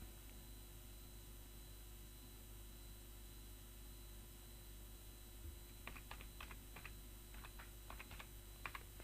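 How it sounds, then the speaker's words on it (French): A computer keyboard is tapped while a command is typed, with a quick cluster of soft, close key clicks arriving late over a faint steady hum in an otherwise quiet room. "on tape la commande"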